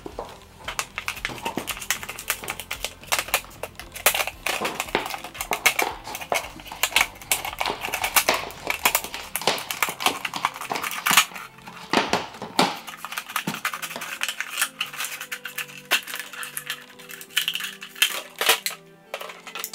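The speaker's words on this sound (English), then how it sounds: "I'm just gonna use the scissors to make outlines." Scissors snipping out the outline of a homemade gas mask, a rapid irregular run of crisp close-up cuts and rustles for about twenty seconds, with no talk.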